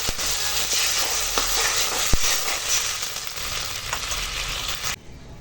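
Steady loud sizzle and hiss as water is poured into a hot pan of frying ingredients for a fish curry gravy, continuing for about five seconds before cutting off abruptly.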